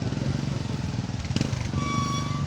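A parked motorcycle's engine runs at a steady idle close by with a brief clatter midway, while a short voice is heard near the end.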